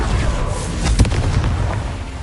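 Confringo blasting spell explosions in the video game Hogwarts Legacy: loud booming blasts with a burst of crackling impact near the middle, over a dense, rumbling battle din.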